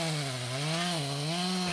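A chainsaw cuts black locust wood in a steady, loud, close engine drone whose pitch dips and recovers as it bites into the log, with no voices.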